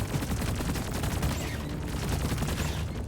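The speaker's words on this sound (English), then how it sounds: "Sentry. The swarm's right on top of you. All set. Let the automated shooting begin." An automated sentry turret in Deep Rock Galactic keeps up rapid, continuous fire against a swarm, a dense, loud rattle of shots running unbroken from start to finish.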